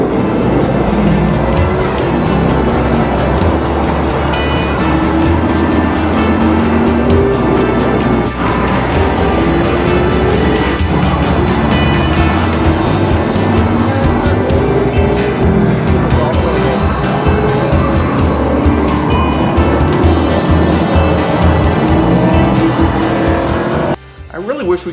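Racing cars roar steadily at high revs with bursts of tire squeal, loud and continuous, a dense engine drone filling the whole stretch.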